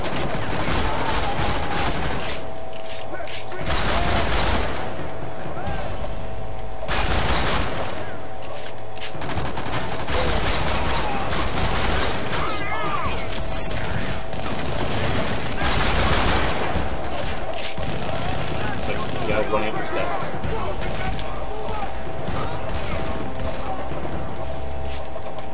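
A dense, sustained firefight from Army of Two: The 40th Day, with rapid automatic gunfire and overlapping shots rattling almost continuously at high volume, occasional heavier blasts mixed in.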